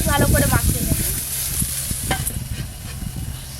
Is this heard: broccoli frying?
yes